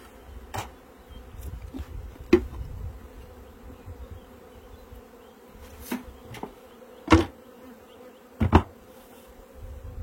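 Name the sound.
honeybees buzzing around a hive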